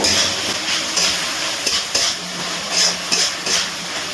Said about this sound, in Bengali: পেঁয়াজটা কিন্তু খুব ভালো করে নাড়াচাড়া করে একটুখানি ভেজে নিতে হবে